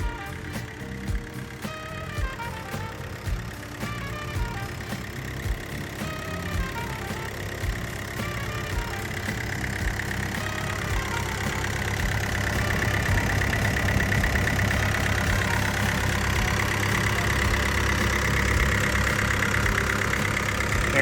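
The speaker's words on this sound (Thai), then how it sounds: "การทำงานของเครื่องยนต์ของเขาเนี่ยก็ทำงานได้แน่นและ ก็เงียบดีมาก ๆด้วยนะครับ" A Komatsu PC40R-8 mini excavator's diesel engine idles steadily and close by, a dense low rumble with a faint knocking rhythm that grows slightly louder toward the end.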